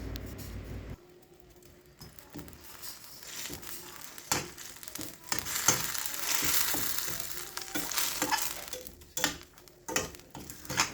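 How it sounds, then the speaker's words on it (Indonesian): Chili spice paste sautéing in a pan for sambal gurame, a steady close sizzle and crackle of frying with occasional scraping and stirring bursts, alone without talk. "Jangan lupa diaduk terus bumbunya pada saat menumis supaya tidak gosong dan tidak lengket ya."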